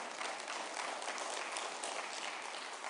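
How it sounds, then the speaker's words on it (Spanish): A church congregation claps together in sustained, dense applause, a steady wash of many hands without any voices standing out. "Démosle un aplauso al Rey de Reyes"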